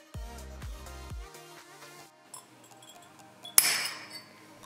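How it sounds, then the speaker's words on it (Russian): A glass bottle cracks along a groove heated by nichrome wire, a sharp single snap rising out of faint clinks and ringing glassy tones, with no talking. "В этот раз бутылка треснула даже без опускания в воду."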